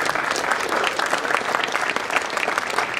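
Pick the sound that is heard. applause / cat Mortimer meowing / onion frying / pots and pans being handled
applause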